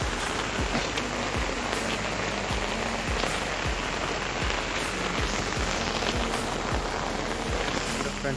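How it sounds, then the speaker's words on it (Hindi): A steady, loud downpour soaks a jungle, dense rain hissing without pause from very close, with repeated soft low thuds running under the roar of water. "मेरी वॉइस से ज़्यादा तो पानी की वॉइस आ रही है।"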